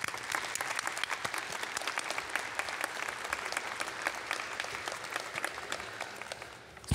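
A graduation convocation audience applauds, dense continuous clapping from a large crowd heard at a moderate distance, steady for several seconds and easing slightly toward the end.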